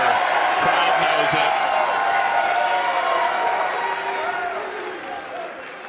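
A boisterous crowd at a Mosconi Cup pool match on U.S. soil claps and cheers in a dense, continuous wave that gradually fades, with a commentator's voice faintly under it.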